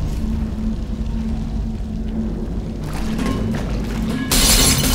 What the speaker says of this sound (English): having it break a pane of glass